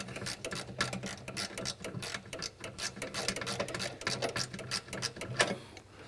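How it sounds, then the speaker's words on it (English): A hand ratchet spins rapidly while undoing a battery tray bolt, giving a steady run of quick, close mechanical clicks across the whole stretch, with no talking. "But then I like to go to my ratchet to speed things up."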